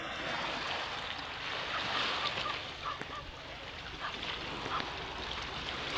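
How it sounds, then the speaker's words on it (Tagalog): Open-sea waves wash and surge in a continuous broadband rush, moderately close, with wind folded through it and no clear talking. "Nindot kayo ang dagat open sea."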